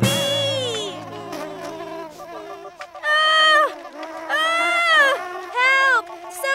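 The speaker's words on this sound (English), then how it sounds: "There's a bee who's trying to sting me!" A cartoon bee buzzes in loud, whiny bursts that rise and fall in pitch, three main swells close together, following a high sung or cartoonish tonal passage at the start.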